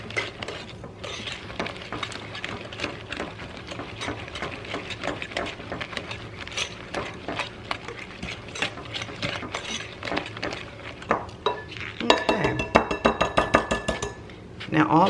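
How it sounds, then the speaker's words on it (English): Zucchini bread batter being mixed with vegetable oil in a bowl, a steady run of quick clinking and scraping strokes of utensil against the bowl, getting faster and denser toward the end. "Okay, let me mix this real quickly."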